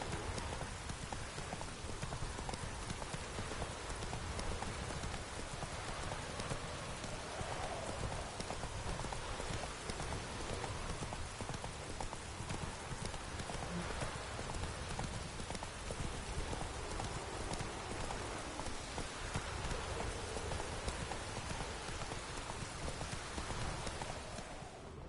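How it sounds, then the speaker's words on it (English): The horse Roach gallops in a video game, steady rapid hoofbeats running continuously under a wash of falling rain, evenly loud throughout. "Run, Roach."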